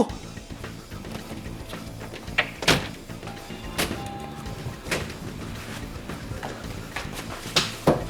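Door knocking or banging in a short comedy film, a series of sharp, loud thumps spaced irregularly over about eight seconds, close by, with a faint voice in the background.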